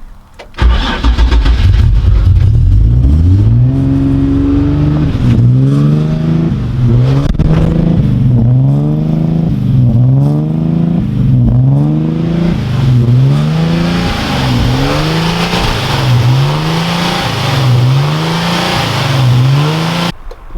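Car engine running just after its first start, before a drive on slick tyres: it catches and then loudly revs up and down in a regular rhythm of repeated rises and falls, close by, with no talking.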